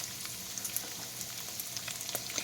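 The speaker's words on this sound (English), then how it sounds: "And I'm also going to add the diced potatoes. Give that a quick stir." Diced potatoes and onion fry in a pan with a steady, close sizzle and crackle, broken by the light scrapes of a stir.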